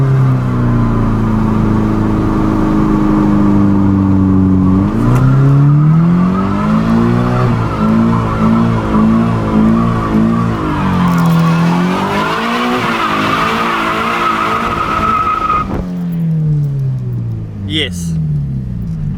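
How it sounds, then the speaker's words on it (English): Toyota 86 car doing skids with loud, sustained tire squeal and revving engine, the pitch rising and falling through repeated slides, close and continuous for nearly the whole stretch. "Do 86s do skids?"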